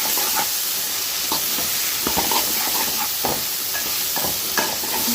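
Brinjal sautéing in a pan for a tamarind rasam, heard as a loud, dense sizzle with scattered spoon scrapes and clinks throughout, close up and without talk.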